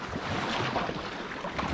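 Strong ocean waves wash and slosh against a boat off Bermuda in winter. The surf sounds close and continuous, mixed with gusty wind buffeting the microphone.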